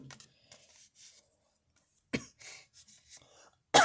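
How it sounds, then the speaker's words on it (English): A woman coughs and clears her throat a few times at a craft table, short sharp bursts separated by quiet, the last one loud and close. "I don't want to be coughing too much."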